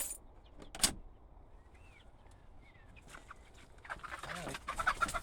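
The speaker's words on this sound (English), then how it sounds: "We have our Houdan chicks absolutely everywhere, as you can see, going wild." Houdan chicks inside a chicken coop, giving faint scattered peeps and chirps over a quiet background, with a louder burst near the start and busier activity toward the end.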